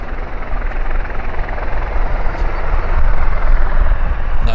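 A WestJet airliner passes at Vancouver Airport, its loud broad engine roar steady and close, swelling slightly toward the end with no talk over it.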